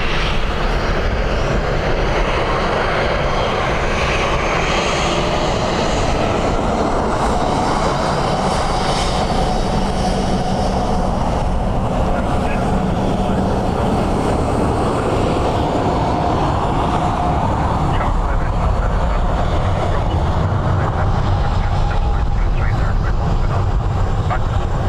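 An Aer Lingus airliner arriving from Amsterdam roars at Dublin Airport on a windy day, a loud sustained broadband engine rumble lasting the whole stretch, with wind noise and voices underneath.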